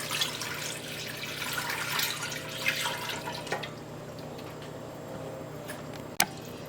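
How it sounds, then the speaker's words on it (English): Milk pours into a smooth flour mixture for baked mac and cheese, a soft, faint, steady liquid trickle with a few small clinks and a sharp tap near the end, and no voices. "And now you're gonna add your milk."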